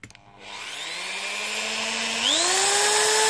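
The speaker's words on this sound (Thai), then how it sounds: "เดี๋ยวผมจะ เสียบตรงนี้แล้วก็ ใช้สว่านนะครับ" An electric drill whirs up from a standstill into a steady, close motor whine, its pitch stepping higher partway through and holding there.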